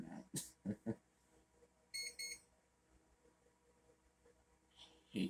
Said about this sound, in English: Hate that beeping sound.